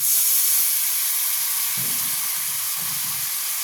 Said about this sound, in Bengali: এরপর আমি টমেটো কুচি দিলাম, দিয়ে অল্প জল দিলাম।